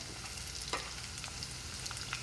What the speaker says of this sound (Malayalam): ചെറിയ ഉള്ളിയുടെയൊക്കെ കളറ് മാറുന്നവരെ ഒന്ന് നന്നായിട്ട് വഴറ്റിയെടുക്കുക